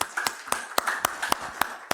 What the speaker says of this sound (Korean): 우리 수고한 성가대원들 박수로 격려합시다